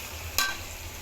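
Meat frying in a pan gives a low continuous sizzle, with one brief scrape of the spoon as it is stirred, close and without talk.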